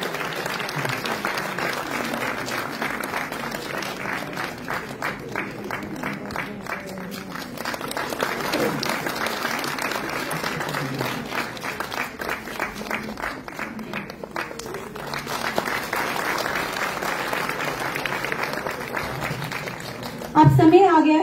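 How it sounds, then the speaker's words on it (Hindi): A large audience at a Hindi education ceremony claps loudly and steadily for students, a sustained dense roar of applause with a voice speaking over it and a louder swell at the very end. "जोरदार तालियां मेरे बच्चों के लिए।"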